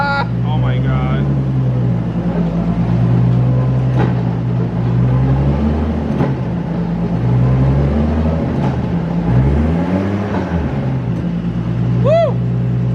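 A car fitted with a four-speed dogbox gearbox runs on its first start, a loud, close, steady engine drone with small swells in pitch. Voices can be heard now and then over it.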